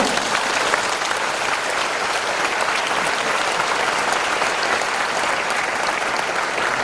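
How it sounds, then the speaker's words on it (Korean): An audience applauds to welcome Paul Saber, CEO of Manna Group, onto the stage, a thick, sustained wash of many hands clapping at steady volume throughout. "여러분 큰 박수로 환영해 주시기 바랍니다"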